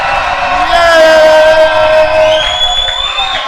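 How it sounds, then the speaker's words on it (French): A church congregation cheers and shouts for joy at a worship music concert, a loud sustained crowd roar with whoops and cries and one voice yelling above it. "Une forte acclamation. Une forte acclamation."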